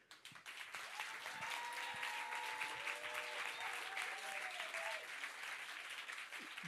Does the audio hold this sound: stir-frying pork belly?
no